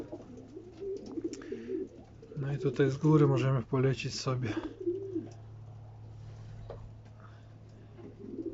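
Domestic racing pigeons coo in a loft, a steady low murmur running beneath someone speaking Polish near the microphone throughout.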